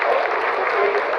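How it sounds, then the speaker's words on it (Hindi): Thunderous applause fills mission control during the Chandrayaan-3 lunar landing's descent, a dense continuous roar of clapping from a room full of people, loud and unbroken. "आप तालियों के गड़गड़ाहट से सुन सकते हैं कि हम लोगों ने तीसरे चरण को भी बहुत ही"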